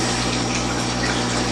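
A pump pushes water through a hose for a pond water change, giving a steady, close mechanical hum with a rushing, gushing flow for a brief stretch.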